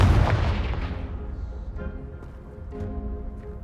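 A Confringo spell explosion blasting apart a piled obstruction in the Hogwarts Legacy video game, a heavy booming blast up front that decays into a rumbling, rattling tail with debris settling afterward.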